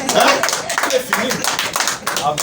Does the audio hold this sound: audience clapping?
yes